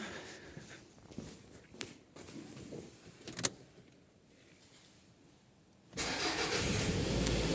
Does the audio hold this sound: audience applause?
no